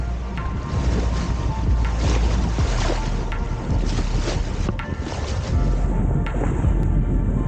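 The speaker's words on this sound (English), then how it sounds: "She is just in her element, flying along, no engine, just the wind power." Sailboat Schiehallion under sail alone with no engine, a continuous rushing of wind and water along the hull with gusty wind buffeting the microphone, steady and close throughout.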